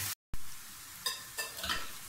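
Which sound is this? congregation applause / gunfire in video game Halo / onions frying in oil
onions frying in oil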